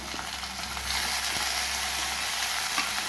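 Tomato frying in a pan for a mustard and poppy-seed pomfret jhal makes a constant close sizzle, with light stirring clicks and scrapes scattered across it and no voices.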